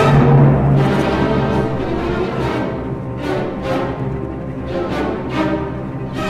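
A full orchestra plays Tchaikovsky's Pathetique development section loudly and densely, with sharp accented hits punctuating a sustained, surging wall of sound.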